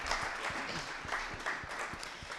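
Audience applause at a Kenyan university forum for a speaker coming up to the stage, a steady wash of clapping at moderate volume with scattered sharper claps throughout.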